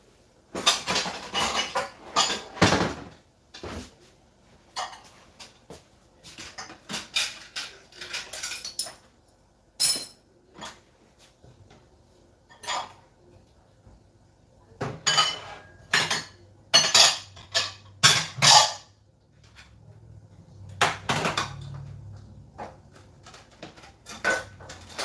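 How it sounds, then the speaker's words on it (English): Dishes and cutlery clattering in a kitchen after a Mexican-style dinner: irregular bursts of clinks, scrapes and knocks, near and fairly loud, separated by quiet pauses over about twenty-five seconds. "Dishes."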